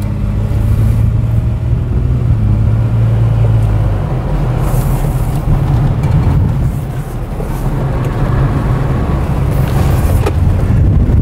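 A 2017 Jeep Wrangler Unlimited Sport 4x4 on big wheels and tires driving on a closed course, giving a loud, continuous engine and tire roar from inside the vehicle with slight swells as it changes speed.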